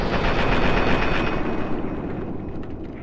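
Sustained automatic assault rifle fire from Fallout 3 rattles loud and close in one continuous burst, with no voices over it.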